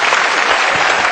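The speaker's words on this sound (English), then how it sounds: "Listen to the applause." Loud, dense applause from an arena audience at a 9-ball world pool championship, steady close clapping filling the whole moment with no talk.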